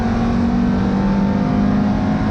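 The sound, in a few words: Ferrari 430 GT3 Challenge race car engine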